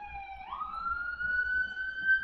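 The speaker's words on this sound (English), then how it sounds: "Got a siren going by." A passing emergency vehicle's siren sounds outdoors at a moderate distance, one long rising then steady wailing tone gradually growing louder, heard alone without talk.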